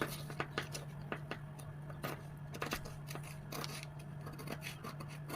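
Scissors cut out a drafted paper sewing pattern for a plus-size princess cut, with soft repeated snips and rustling paper, close and quiet over a faint steady hum.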